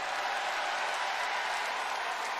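A college basketball crowd at an Indiana Hoosiers versus Michigan Wolverines game cheers and applauds as a player checks in, a dense, even wash of distant clapping and crowd noise with no break.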